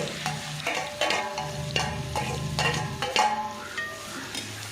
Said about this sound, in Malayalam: ഒരു 2 കിലോ സവോളയാണ് നമ്മൾ വറുത്തെടുക്കുന്നത്.